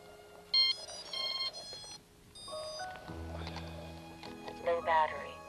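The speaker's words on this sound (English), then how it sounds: "Low battery. Battery critical." Electronic beeping warning tones from a drone's low-battery alarm, a series of short synthetic chirps and tones mixed with a synthetic voice alert, fairly faint with background noise.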